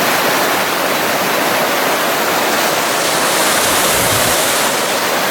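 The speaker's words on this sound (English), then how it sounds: "we have a weir here, if I'm pronouncing it correctly. So the water is being controlled how it flows." Water pours over a controlled weir in Ebermannstadt, making a loud, steady, broadband rush that stays unbroken and close throughout.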